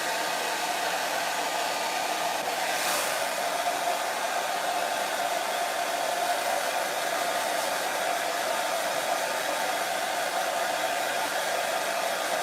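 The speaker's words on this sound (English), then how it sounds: "I have to blow dry it right now" A hair dryer blows steadily and close for the whole stretch, a loud continuous airy whoosh drying hair, alone with no talking.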